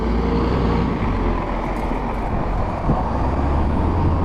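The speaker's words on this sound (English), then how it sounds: "There's just too much traffic out here." Busy city road traffic heard from the roadside, a dense continuous rumble of passing cars, buses and trucks, with steady broadband noise and no talking.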